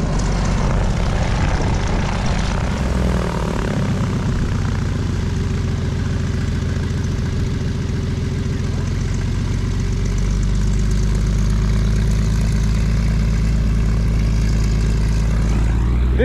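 A tow plane's propeller engine drones steadily and loudly throughout while pulling a glider, a continuous low hum with a rougher start that settles into an even roar.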